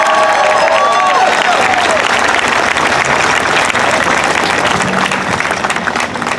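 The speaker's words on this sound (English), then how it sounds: "let's please give another warm round of applause for April for everything she did" Sustained, loud applause from a crowd at an outdoor Families Belong Together rally in Cleveland, dense clapping filling the whole stretch with a few scattered voices and whistles mixed in.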